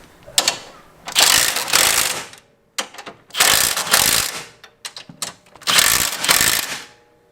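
A hand ratchet with a socket and extension turns the stabilizer bar bolts on a Nissan Z, heard as three bursts of rapid, close clicking separated by short pauses and small clanks.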